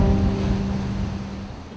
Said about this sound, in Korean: 바다에 살을 내는 듯한 폭풍우가 몰아칩니다.